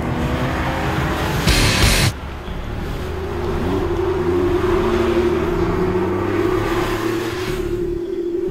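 A Porsche 911 GT3 with a flat-six engine drives past, its rising and falling engine note revving through gears as it moves, with a brief burst of rushing noise early on.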